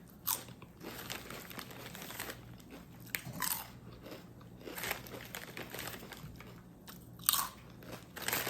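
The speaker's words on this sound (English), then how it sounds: "do you hear that crunch?" Crunching and chewing on a Canadian snack held close to the mic, with several sharp bites spread across the stretch and soft crinkling between them, and no talking.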